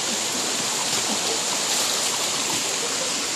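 A waterfall beside a bungalow on the Bonacaud estate, heard as a steady, fairly close roar of rushing water, broadband and unbroken throughout, with no voices.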